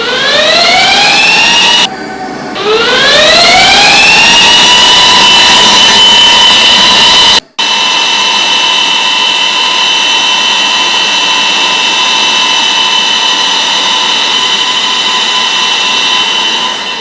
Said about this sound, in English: We're gonna put the fan to the maximum, as you can see here, to the full speed